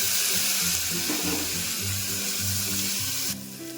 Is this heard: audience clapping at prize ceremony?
no